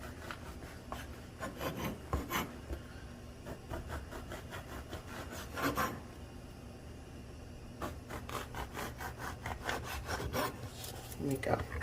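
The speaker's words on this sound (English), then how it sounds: "I'm going to just cut some slices of bread" A knife saws through a crusty French loaf, a close, quiet series of rasping back-and-forth strokes in bursts separated by short pauses.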